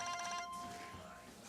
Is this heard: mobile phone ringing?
yes